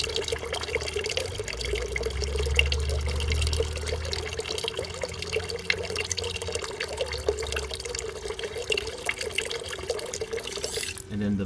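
Water fills a tank in a level control system with a continuous trickling, splashing flow and a steady hum, moderately loud, with low talk at times.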